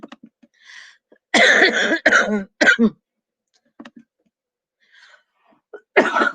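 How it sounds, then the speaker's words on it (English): A person coughs several times in harsh bursts, with short pauses and quiet breaths between the fits, close and loud. "Oh, this stupid cough."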